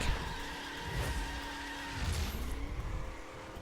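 A 964-horsepower Chevrolet Silverado in performance spec drives in The Crew, a steady engine drone with rising and falling pitch as it revs and shifts, and a short tire squeal partway through, close and with no speech over it.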